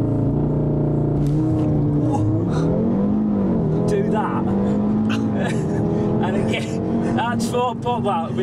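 A 2015 Audi RS3 launches hard with launch control, its engine revving loudly and rising in pitch through the gears, close up and continuous, with a voice talking over it.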